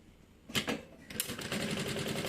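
A sewing machine stitches around the edge of a medium-sized fabric bag with a double opening, a short burst starting about halfway through and then running steadily and fairly close, with no talking.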